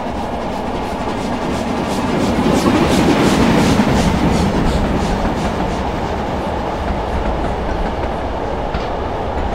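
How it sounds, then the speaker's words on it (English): A Class 111 diesel multiple unit coasts along rails in Train Simulator 2015 on the Dumfries to Kirkcudbright route, a steady rumbling roll with rhythmic clickety-clack of wheels over joints, swelling slightly then holding even. "I'm just going to allow the train to coast momentarily"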